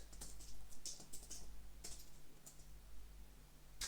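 Typing on a computer keyboard while entering text into a combo box: bursts of quiet, rapid key clicks in uneven clusters, fairly close, with no talking.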